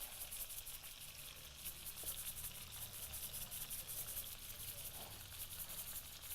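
Sliced baby portobello mushrooms sauté with salt in a pan, giving a steady, close hiss and sizzle with faint stirring crackles throughout.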